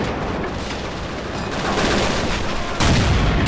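Dense, continuous gunfire and explosions from a tank destroyer battle in the World War II strategy game Men of War: Assault Squad 2, a loud, overlapping barrage with a heavier blast near the end.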